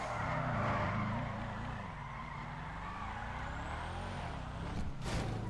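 An upgraded Sultan car accelerates in GTA V, its engine a loud, continuous roar with rising pitch, close and alone, ending in a brief burst of noise.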